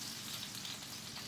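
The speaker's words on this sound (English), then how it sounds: "You want that sizzle." Shrimp sizzle in a hot frying pan, a continuous crackling hiss close up and fairly quiet, with no talk.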